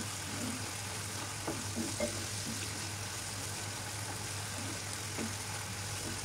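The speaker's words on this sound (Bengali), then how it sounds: "এখন চিলি সস দিয়ে খুব ভালোভাবে নাড়াচাড়া করে আমি কষিয়ে নেব।" Chicken bhuna masala with chilli sauce fries and gets stirred in a pan, giving a soft continuous sizzle with occasional spoon scrapes over a low background hum, fairly quiet and without speech.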